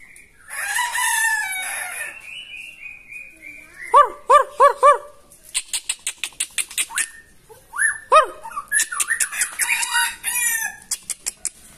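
A white-rumped shama (murai batu) sings and a rooster crows and clucks nearby, with dog-like barks mixed in. The calls come in loud bursts: rapid repeated notes broken by short pauses.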